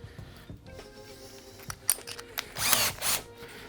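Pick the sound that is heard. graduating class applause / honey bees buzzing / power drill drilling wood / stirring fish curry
power drill drilling wood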